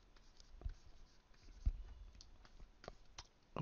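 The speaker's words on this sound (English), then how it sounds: "I'm drawing Robin's staff" Pencil or pen drawing a character's staff on paper: faint, scattered scratches and taps of the tip, irregular and close, over a quiet background without speech.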